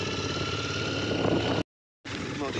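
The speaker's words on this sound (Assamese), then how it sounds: "আমি বাইকত গৈ আছোঁ।" Motorbike riding along a road toward a river, its engine droning steadily and up close, cutting out briefly to silence before resuming.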